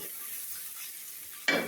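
Chicken meat sizzles as it fries down in a pan for a green-chili curry, with a soft steady hiss that suddenly grows louder near the end as it is stirred, close up and with no voices.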